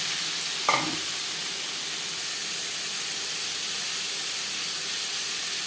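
Cubes of paneer frying lightly in about three spoons of refined oil, a steady, close sizzling hiss that runs unbroken throughout after a brief soft knock near the start, with no talking.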